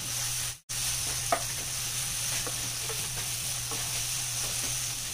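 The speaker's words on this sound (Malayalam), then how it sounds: "ഇനി ഇത് ചെറുതായിട്ടൊന്ന് വഴറ്റി കൊടുക്കുക," Spring roll filling with soy sauce sautés in a pan, giving a steady soft sizzle and hiss with light stirring scrapes and one brief pause near the start, no one talking.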